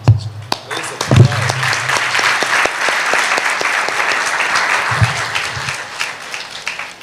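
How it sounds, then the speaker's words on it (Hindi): A church congregation bursts into loud, close applause, with sharp individual claps at the start, then a dense crowd of clapping that holds steady, while a voice briefly speaks over it. "मैं आपके लिए ताली बजाना चाहता हूँ।"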